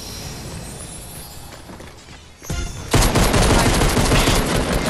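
Fortnite gunfire builds from a faint rattle into loud, dense sustained bursts of rapid shots close by, continuing to the end.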